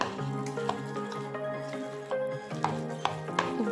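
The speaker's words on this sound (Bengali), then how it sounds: "খুব ভালোভাবে মিশিয়ে নিচ্ছি।" Thick lentil paste for masoor dal fritters being stirred and mixed in a bowl, giving a steady wet squelching churn with a few sharper clicks of the utensil against the bowl.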